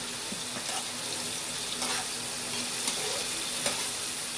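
Tomatoes cook in a salted pan for a chutney, a soft continuous sizzle with a few light scrapes and taps of stirring, close and alone without talk.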